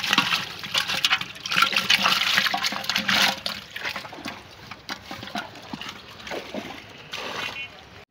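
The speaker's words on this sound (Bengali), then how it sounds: "দেখেন মাছটা কত সুন্দর লাফাচ্ছে" A live rohu fish jumps and thrashes in water, giving bursts of close splashing and sloshing that come in uneven waves, with a voice talking over it.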